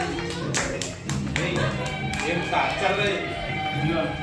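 A family claps together at a Sankranti celebration, a burst of brisk handclaps up close that thins into scattered taps while people talk and call out over it.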